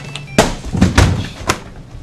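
A shop door bangs shut with a sharp, loud thud, followed by a few duller knocks and thumps as it settles amid room noise.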